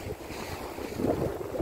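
Wind rushes over a First 25.7 sailboat at sea in summer, a steady close buffeting roar with faint water wash beneath, no voices.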